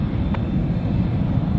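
EVA Air airliner passing overhead at San Francisco, a steady, loud, broadband engine roar holding level throughout with no talk.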